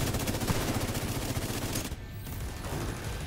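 Loud, rapid automatic gunfire from a firefight in The Division 2 rattles continuously up close, then drops off into a quieter tail near the end, with no talking.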